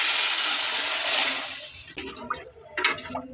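Water poured into rice frying in oil for a pilaf, a loud hissing rush that fades, followed by softer bubbling and a few clinks of a utensil.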